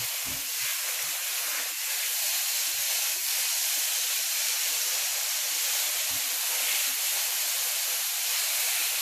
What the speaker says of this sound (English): Nice and hot, smoking, straight in, good sizzle.